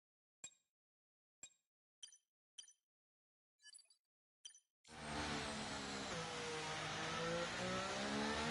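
Cars race in a Miami Grand Prix video game: a steady, loud engine roar surges in and holds, preceded by several short, sharp clinks spaced about a second apart in silence.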